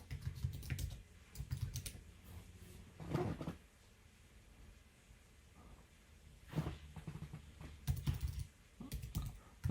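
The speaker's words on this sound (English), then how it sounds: "If I could type it in." Typing on a computer keyboard comes in several separate bursts of quick, close key clicks with quiet gaps between them, and there is no talking.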